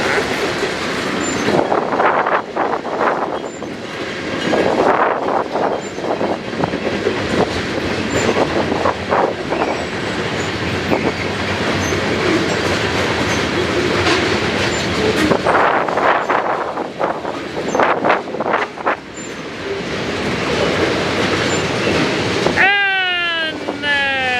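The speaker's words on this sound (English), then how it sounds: "No, those are hopper cars." At Tehachapi a heavy freight train hauling hopper cars grinds past at length, a dense continuous roar of wheels and rattling cars with squeals and clanks, a few voices faintly underneath.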